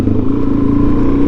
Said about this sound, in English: So this bike does kind of get up and go compared to a stock form DRZ.